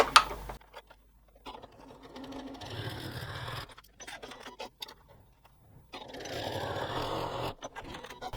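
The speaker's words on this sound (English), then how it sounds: "I'm going to stitch each short edge with a 1 centimetre seam allowance" A sewing machine stitches a fabric seam with a one-centimetre seam allowance along a short edge, whirring in two steady bursts separated by brief pauses, close and moderately loud with no talking.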